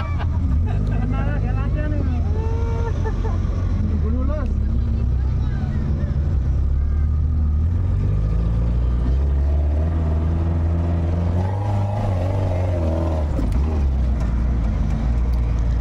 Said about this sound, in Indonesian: Naik tanjakan bergantian antar jeep.